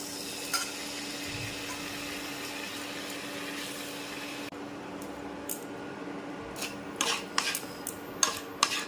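Mango pieces are tipped into a hot wok for chutney: a steady sizzle and hum, followed by several close clanks and clatters of the pieces and utensil against the pan.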